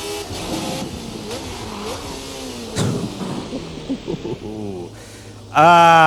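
A 1970 Formula V8 race car engine in a racing sim revs hard through gear changes, rising and falling in pitch with a loud high-revving surge at the end, under a speaking voice.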